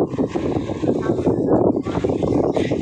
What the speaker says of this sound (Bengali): বাতাসে সাইকেল চালাইতে পারতাছি না, পিছনে টাইনা হয়ে যাইতেছে সাইকেল।